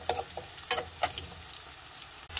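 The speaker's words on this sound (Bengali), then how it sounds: "রসুন কুচি দিয়ে আমি আবার একটু ভেজে নিব" Chopped garlic and lightly browned onion frying in a pan for a Noakhali-style taki fish morich khola, a soft sizzle broken by a few sharp scraping strokes of stirring.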